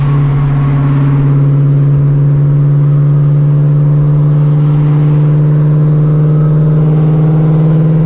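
Straight-piped Shelby GT350 cruising on a highway, its exhaust holding a loud, steady droning note with a deep hum and no sharp revs, heard from inside the car throughout.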